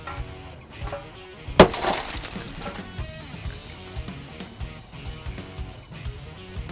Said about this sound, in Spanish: Ya una vez que el vidrio está roto, simplemente empuja los restos hacia afuera.